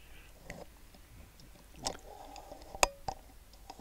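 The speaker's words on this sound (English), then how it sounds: "she's quite happy chewing away" A grey squirrel perched on a tree branch gnaws a nut, giving a few sparse, sharp crunches and clicks over quiet outdoor background, with no talking.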